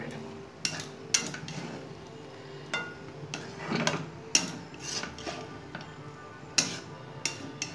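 A spoon scraping and knocking against a pot while ground mace and nutmeg are stirred into pulao, giving a series of soft irregular clinks and rubs, close and quiet, with no talk.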